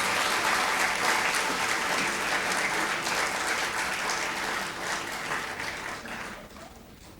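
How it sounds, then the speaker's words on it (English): An audience at an MBA batch inauguration ceremony applauds in a dense, sustained roar of clapping hands, loud and steady before fading gradually toward the end. "Yeah, you all can clap,"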